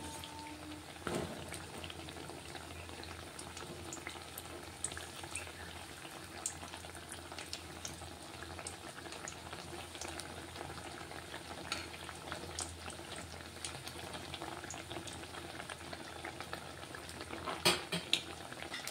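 Potato bajji fry in a little oil with a steady, crackling sizzle full of tiny pops, close but low in level, with an occasional louder clatter near the end and no talking.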